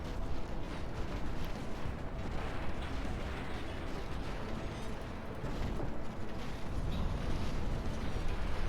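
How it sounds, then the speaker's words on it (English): Heavy missile barrage in the mech combat game Phantom Brigade, a dense, continuous rumble of overlapping blasts and booms that stays loud and steady throughout with no pauses. "I do actually kind of want to see how this missile mayhem goes"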